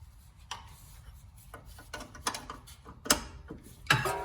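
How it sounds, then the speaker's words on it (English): A ratchet wrench with a 17 mm socket clicks as it spins off a loosened suspension bolt during a camber kit install on an Infiniti G35 / Nissan 350Z. Scattered sharp metallic ticks and clacks ring out, close and moderately loud. "I've already broke the bolt loose. I'm just finishing taking it off now."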